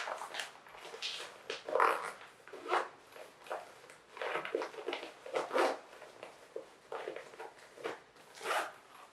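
Zipper on a reusable prepaid shipping pouch being pulled shut in several short, close, quiet zips separated by brief pauses, with soft handling rustles in between.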